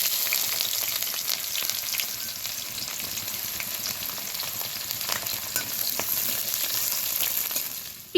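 Chopped medium onion with whole spices hits hot oil in a pan, giving a loud, steady, close sizzle and crackle that runs the whole time with a few faint stirring scrapes and no voices.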